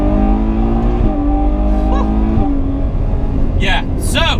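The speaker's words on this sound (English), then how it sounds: "Well, 800 horsepower Ferrari V12." An 800-horsepower Ferrari 812 Competizione V12 accelerates on the Fiorano track, its loud engine note climbing steadily with sharp shift blips and a rising whine near the end.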